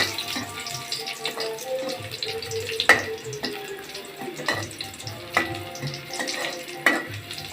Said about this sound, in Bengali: কয়েকটা শুকনো মরিচ দিচ্ছে। মরিচগুলো এভাবে ভাজে নিতে হবে।